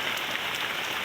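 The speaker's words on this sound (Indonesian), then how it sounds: "Parantos turun hujan." Steady rain falling on a garden, a dense, even hiss of drops with no voices, continuous throughout the short stretch.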